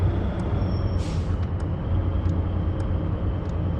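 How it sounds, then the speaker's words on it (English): Air brakes on a truck in Truck Logistics Simulator: a brief hissing release burst stands out over a constant loud engine drone and road rumble heard from the cab. "Air brakes sound quite good actually."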